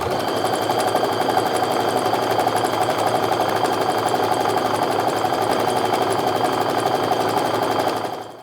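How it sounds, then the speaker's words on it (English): A home sewing machine runs steadily, stitching quilt strips cut from fat quarters with a quarter-inch seam, its motor humming and needle whirring in an even, unbroken rhythm for about eight seconds before stopping. "now I'm just going to sew my 1/4 inch stitch all the way down here"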